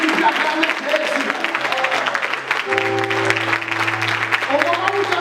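A church congregation at a Sunday service claps and cheers in praise of Jesus, with applause rolling on throughout beneath sustained singing or music and voices.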